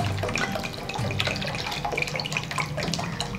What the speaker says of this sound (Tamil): 200 ml தண்ணி ஊற்றிருக்கேன்.